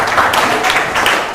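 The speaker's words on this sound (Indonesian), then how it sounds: "tepuk tangan buat semuanya ya" Classroom applause after student project presentations, a short burst of many hands clapping close by, steady and dense throughout, with a faint voice murmuring underneath.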